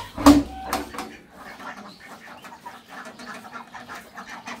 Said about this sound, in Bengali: আর এদিক দিয়ে হাঁস মুরগি কতকত কতকত করতেছে বের হওয়ার জন্য।